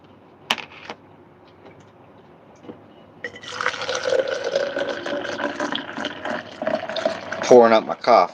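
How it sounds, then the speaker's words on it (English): Coffee pours into a cup in a steady, rising liquid stream lasting several seconds, close and fairly loud, after a few quiet knocks and taps. "Pouring up my coffee real quick"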